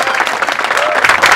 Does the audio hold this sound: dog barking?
no